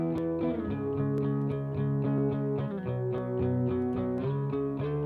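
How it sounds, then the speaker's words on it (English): A music mix with a reverb set to a 1970s color, its tone shaped by the algorithm's EQ curve, playing as steady sustained tones and repeated notes at moderate level with no voices. "So let's hear what that reverb's doing."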